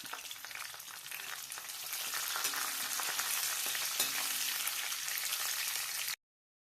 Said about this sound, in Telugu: కారం వేసాక ఒకసారి అటు ఇటు తిప్పాలి